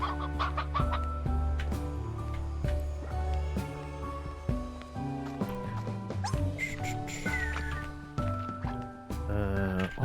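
Chickens cluck in the video game Slime Rancher 2, their calls mixed into steady, melodic game music that runs throughout.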